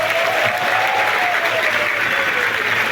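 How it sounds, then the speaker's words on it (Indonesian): A crowd of students at a stand-up comedy show during campus orientation at Politeknik Negeri Medan applauds loudly and steadily. The close, thick clapping is accompanied by a faint whistle-like tone. "Boleh minta tepuk tangannya?"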